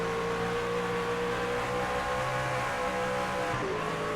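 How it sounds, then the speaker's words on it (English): Race truck engine from an AREA Truck Series race at Canadian Tire circuit, steady droning roar with a mid-range tone that climbs slightly as it revs along a straightaway over a crest, continuous and moderately distant. "You can hear the revs even pick up on the back straightaway coming over the crest here"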